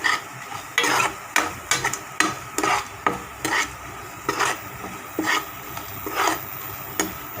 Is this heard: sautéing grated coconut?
yes